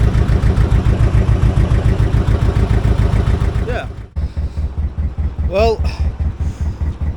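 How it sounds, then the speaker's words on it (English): Boat engine idling at the stern, a steady loud rhythmic chug that dips briefly midway, then resumes while a short whistling squeal rises over it. "The engine's been running maybe 40 minutes now."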